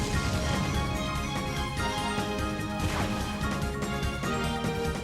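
A Shadow Rush attack lands in Pokemon Colosseum, a dense crashing impact burst layered over busy game music and effects, loud and unbroken.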